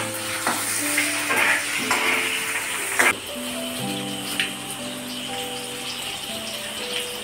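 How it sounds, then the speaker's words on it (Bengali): Onions frying with salt in a pan sizzle continuously while being stirred, with a few clinks and scrapes, under a soft melodic music track. "পেঁয়াজটা ভালো ভাজা হয়ে যায়"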